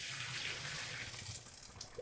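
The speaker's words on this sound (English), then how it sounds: "you do want to quickly rinse the farro with cool water just to make sure it doesn't stick" Cool tap water runs steadily over farro being rinsed, a continuous close splashing wash that eases off slightly toward the end.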